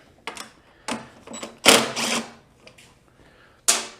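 Bolts being removed from the guard of a Lawn Boy mower, a handful of short, close metallic clicks and ratcheting bursts separated by brief pauses.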